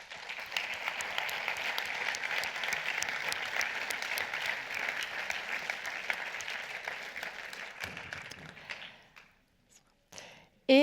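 An audience at a film festival award ceremony applauds steadily for several seconds, then the clapping thins out and fades to near silence, followed by a few faint knocks near the end.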